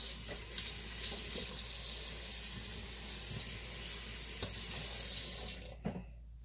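Kitchen sink tap runs steadily while squash is rinsed, a continuous close hiss of water that cuts off near the end.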